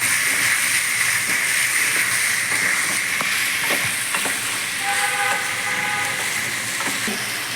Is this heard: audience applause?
no